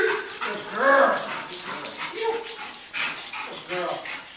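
A police dog barks and whimpers up close in short yips and whines, interleaved with voices talking over and between the calls.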